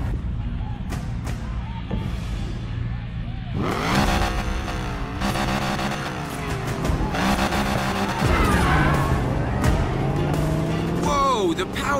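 A souped-up sports car in Need for Speed Payback roars as the engine revs hard, with tires squealing and skidding over rising and falling engine tones, loud and close, with voices talking over the action.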